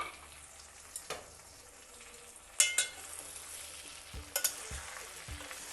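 A stuffed brinjal curry is stirred as it fries in a brass pot: soft continuous sizzling with several sharp scraping and clattering knocks from the stirring, close up and with no voices.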